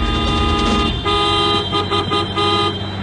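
A car horn toots in a comedy movie scene, blaring in sustained bursts over a mix of background sounds and music. The honks are loud and close.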